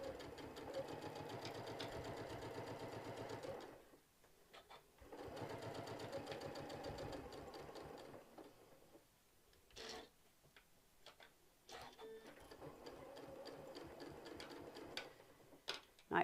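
A sewing machine stitches a fabric mug rug in long steady runs of rapid needle ticking, pausing twice for several seconds, then finishing with short stop-start bursts and light handling clicks.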